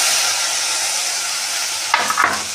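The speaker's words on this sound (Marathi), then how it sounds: "टमॅटो पण चांगलं भाजून घ्यायचं 2-3 मिनिटं." Tomatoes sizzle and fry with onions in a pan, a steady close hiss running throughout, with a couple of brief stirring scrapes near the end.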